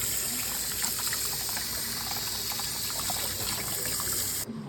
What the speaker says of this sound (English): 1 last rinse of cold water